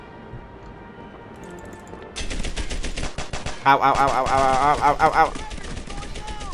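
Gunfire in the World War II shooter Medal of Honor Airborne: after a quiet stretch, a loud run of rapid cracking shots breaks out and continues, with a man's brief exclamation mixed in.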